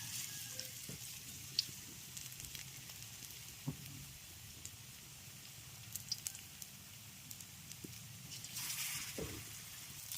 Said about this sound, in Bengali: এবার তেলের মধ্যে একটা একটা কোপ্তা বানিয়ে দিয়ে দেবো